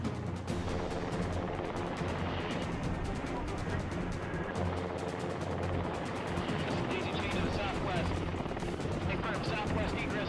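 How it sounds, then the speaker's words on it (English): Black Hawk helicopters fly a simulated combat rescue mission at an Air Force base, their rotors and engines making a loud, continuous, choppy roar with fast thudding pulses. "such as these Black Hawk helicopters. The Black Hawks simulate a combat rescue mission"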